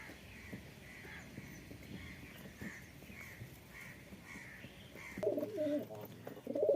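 Pigeons, including high-flying Giribaz breeds, coo softly in a loft amid a murmuring background, with a brief sharper bird call near the end.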